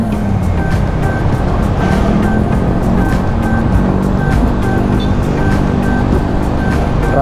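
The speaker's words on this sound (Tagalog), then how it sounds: "Grabe traffic dito." Heavy road traffic crawling along Commonwealth Road under an overcast sky, a steady, loud wash of engine noise and tire rumble with a faint high whine running throughout, no voices.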